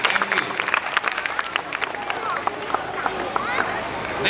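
Children clapping their hands at a school prize-giving, a dense patter of many small claps with crowd murmur underneath, steady and moderately loud throughout.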